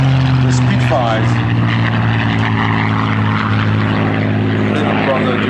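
A Hawker Hurricane propeller fighter drones steadily overhead at the Duxford airshow, with a loud constant engine hum heard under a commentator speaking on the public address.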